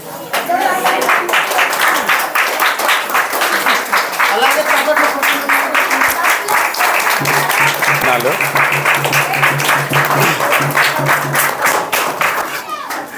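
Church audience at a Christmas felicitation in Beersheba church, Nelajartha, claps in a loud, dense, sustained burst lasting several seconds, with a voice speaking over the crowd.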